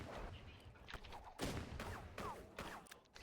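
Gunfire in a first-person video game shooter, several sharp shots and short bursts of varying loudness across a few seconds, with no talk over them.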